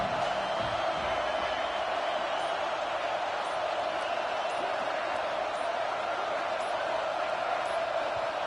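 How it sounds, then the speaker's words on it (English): Loud crowd noise in a packed stadium during a college football game, a dense, steady roar that fills the whole stretch, with faint commentary underneath. "And with this place rocking,"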